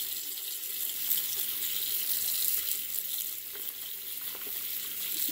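Tap water runs steadily over bubble dough being dissolved by hand at a sink, a constant near hiss with faint splashing.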